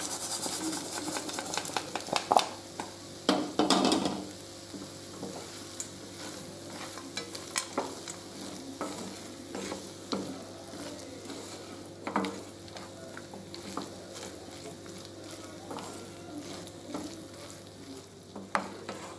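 Fried chicken pieces being stirred into biryani masala for a Thalassery-style rava chicken biryani, with a steady close sizzle under repeated scraping stirs and a few louder clatters early on, no voices.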